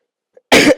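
A cough from a lecturer giving a gravity and cosmology class, a loud close burst after a brief silence, with a second cough starting right after it.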